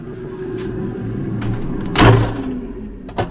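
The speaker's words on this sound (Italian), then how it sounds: "Questo rumore è la friggitrice d'aria per il cocco." A low, steady mechanical hum of an air fryer toasting coconut runs throughout, close by, with a sharp clunk partway through and a faint tap near the end.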